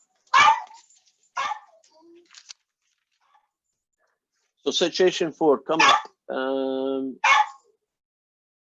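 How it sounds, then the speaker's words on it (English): A house dog gives two short, sharp barks close by, seeking attention. After a quiet stretch, someone speaks. "My dog is wanting attention, I think."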